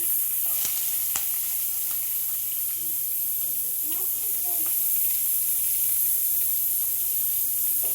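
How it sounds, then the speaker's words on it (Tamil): Curry leaves and onion fry in hot oil for poori masala, a continuous, even sizzle and hiss with a few sharp crackles and faint stirring, no talking over it. "இப்போ நம்ம கருவேப்பிலை போட்டுக்கலாம். அதுக்கப்புறம் ஆனியன் போட்டுக்கலாம்."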